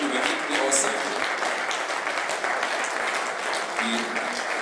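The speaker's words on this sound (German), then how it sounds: "Riesenapplaus und ein Beifall für Dieter Bosse" Applause for an honoree at a ski club award ceremony, steady dense clapping from a crowd with some voices mixed in, sustained throughout.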